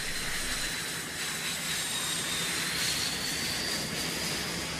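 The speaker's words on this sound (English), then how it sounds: "a bomb launch from planes like these could explode within 3 meters of its target" A military jet aircraft roars overhead in a steady, broad engine rumble with a high whining edge, sustained and fairly loud throughout.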